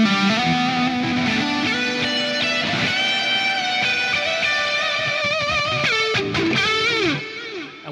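Electric guitar played through the Ground Control reverb plugin in its swampy mode, sustained distorted chords and bends washing into a dense reverb tail that fades near the end.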